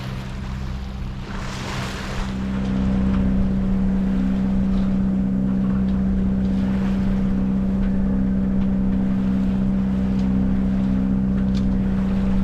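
A sailboat's engine drones steadily on the passage from St Lucia to Bequia, with a strong low hum and a constant tone beneath wind and water noise, rising slightly in level early on and then holding steady.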